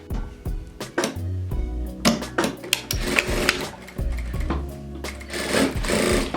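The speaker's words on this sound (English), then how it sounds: "we want to sew right sides together" A sewing machine stitches pre-quilted cotton fabric with its right sides together, running in short stop-start bursts with a steady mechanical hum and clatter. Near and fairly loud, with no voices.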